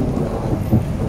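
Rain pours steadily as thunder rumbles low and close, a dense, loud wash of storm noise during an off-road rally in Albania, with no voices.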